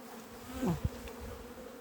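Honeybees hum steadily in the background during feeding, a low continuous drone with a brief louder buzz passing close, no voices.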